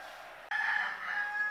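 A rooster crows once, fairly near and clear, its drawn-out call rising after a brief hush and holding steady to the end.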